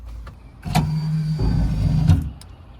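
A Nissan Titan power window motor swapped into an OBS Chevy truck runs fast for a bit over a second, a close, steady electric whine with a click at the start and at the stop, and no talking.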